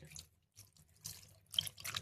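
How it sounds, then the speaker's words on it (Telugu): Short bursts of water splashing and dripping into a pot of chicken curry, three or four quick pours with brief pauses between, close and fairly quiet. "ఇప్పుడు దీంట్లో కొంచెం నీళ్ళు వేసుకోవాలి"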